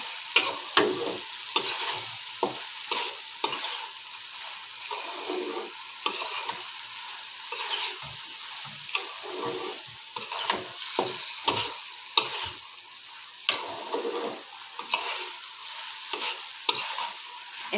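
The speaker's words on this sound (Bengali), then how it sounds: "এখন আমি ভালো করে ভেজে নিচ্ছি" Dal frying in a pan, stirred steadily with a utensil: continuous close sizzle broken by repeated scraping strokes of the spoon against the metal, with no one speaking.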